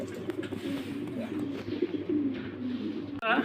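Fancy pigeons cooing at a pigeon farm, close, low repeated coos with faint background chatter and a brief flutter near the end.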